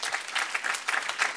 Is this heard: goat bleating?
no